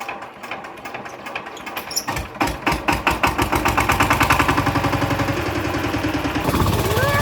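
A tractor engine, heading out to plough a field, chugs steadily with a rapid, regular pulsing rhythm that grows louder and stays close throughout, with no talking.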